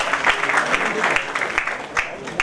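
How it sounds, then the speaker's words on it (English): Applause from an audience at a medical association event, a broad dense patter of claps with some crowd murmur and speech mixed in, moderately loud throughout. "Give big clap."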